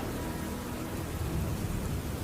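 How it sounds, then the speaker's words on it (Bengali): Cartoon storm with steady, dense rain and a low rumble of thunder throughout, loud and close, with no voices. "মেঘ তুমি এবার তোমার বৃষ্টি দেওয়া বন্ধ করো"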